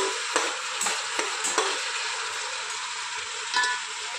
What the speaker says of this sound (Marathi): व्यवस्थित सगळं परतून घेऊया।